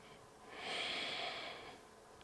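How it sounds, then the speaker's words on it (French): A single deep, slow breath taken through the nose during a beginner yoga session, soft and close, swelling and then fading over about a second. "Encore 2 respirations"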